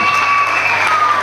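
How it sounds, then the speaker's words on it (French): A school audience claps loudly at a student government investiture ceremony, a brief dense burst of applause with crowd noise, steady and near throughout. "On applaudit très fort."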